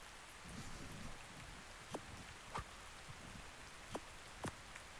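Steady rain hisses in the ARK: Astraeos Ascended game world, soft and faint, with a few sharper droplet ticks scattered through the patter.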